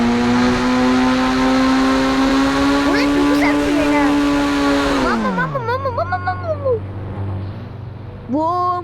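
Sports car in a video game roaring at high speed, a loud sustained engine tone climbing slowly in pitch before dropping off, followed by a wavering, bending engine whine with someone talking over it.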